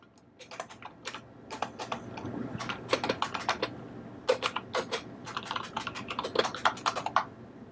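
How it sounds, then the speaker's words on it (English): Rapid, uneven keyboard typing on a serial terminal with clicky keystrokes in bursts and brief pauses, close and fairly quiet, with no voices. "suddenly it's typing out of nowhere and you can't see where it's typing from"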